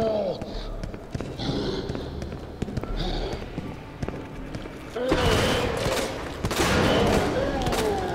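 Minigun fire in Resident Evil 2 Remake, a dense rattling stream of rapid shots that grows louder and fuller in the second half, with a voice talking over the action.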